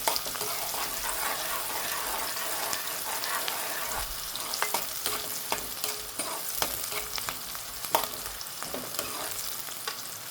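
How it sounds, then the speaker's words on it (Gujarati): Sliced onions fry and sizzle steadily in oil while a spoon stirs them, with scraping clinks scattered through a continuous, close crackle. "ડુંગળીને પાકા દેવાનું છે થોડીક વાર, ગોલ્ડન બ્રાઉન થાય ત્યાં સુધી."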